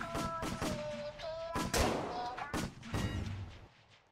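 Several gunshots ring out in a Squid Game video game, loud sharp bangs spaced unevenly among game sounds and music, with a player's voice speaking briefly.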